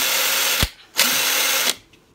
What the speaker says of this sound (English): So here's full throttle on this one.